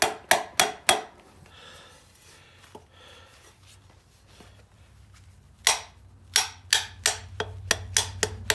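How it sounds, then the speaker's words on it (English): A rubber hammer pounds on parts during a Camaro restoration: a quick run of sharp, close knocks, a quiet gap with light handling noise, then a longer series of strikes that gets steadily softer. "I need the hammer, the rubber one."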